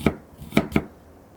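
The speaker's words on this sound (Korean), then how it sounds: "양파와 토마토는 채 썰어서 준비해 주세요." Onions and tomatoes being sliced with a knife on a board: three sharp, close chopping knocks, one early and two close together later, with no talking.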